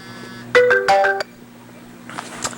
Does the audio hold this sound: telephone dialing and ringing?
yes